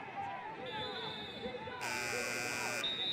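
A shot clock buzzer sounds loudly for about a second during a Premier Lacrosse League quarterfinal between the Denver Outlaws and Maryland Whipsnakes, a flat sustained tone over crowd noise and commentary.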